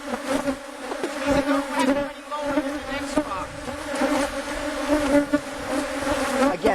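A dense swarm of honeybees buzzes continuously around an opened beehive of deep boxes in a desert apiary, a close, steady drone with individual bees whirring past.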